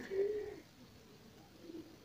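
Pigeon of the Javanese, homing or Gresik type cooing while being fed peanuts, a short low coo near the start followed by quieter soft cooing over faint background noise.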